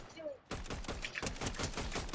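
Rapid bursts of Fortnite Battle Royale gunfire, dense and loud, rattling continuously after a brief pause, with a voice faintly underneath.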